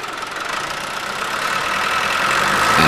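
Engine idling during an oil pressure check with oil at 70 to 90 °C, a steady broadband mechanical drone that grows slightly louder over about three seconds, with no voices.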